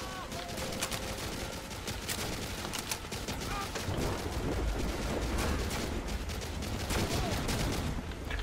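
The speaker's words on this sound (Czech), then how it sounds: "Tady se nějak zuřivě střílí" Gunfire from the World War II shooter game Medal of Honor: Allied Assault Spearhead, set in Berlin, rattles almost continuously as dense overlapping bursts and booming explosions, loud throughout, with a player's voice faintly under the battle noise.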